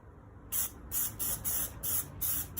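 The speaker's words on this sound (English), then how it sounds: "Get a little test spray." Plasti-Dip aerosol can fires five short test bursts, each a sharp, close hiss with brief gaps between, after a moment of quiet.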